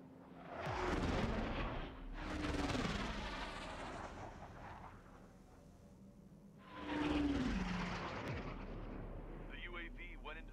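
A wingless UAV drone still in flight in Ace Combat 7, heard as heavy roaring engine and explosive rumbles in two loud surges with a quieter stretch between, mixed with game voices.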